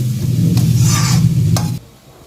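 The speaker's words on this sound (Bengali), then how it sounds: "আলুর সাথে পেঁয়াজ কুচিটা ভালো করে মিশিয়ে নিচ্ছি।" Potatoes and chopped onions sizzling in a wok while a utensil stirs them, a loud steady frying hiss with scraping strokes that stops abruptly.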